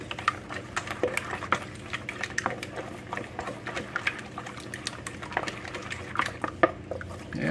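A wooden spatula stirs candied yam muffin batter in a bowl, giving wet, sticky squelches and soft scraping taps in an uneven rhythm, close by.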